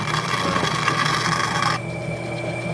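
A homemade bowling ball spinner, powered through a drill press switch, turns a bowling ball with a loud, steady rasping whir that drops to a quieter, even hum partway through.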